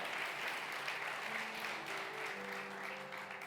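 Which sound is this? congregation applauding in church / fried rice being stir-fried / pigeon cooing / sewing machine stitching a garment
congregation applauding in church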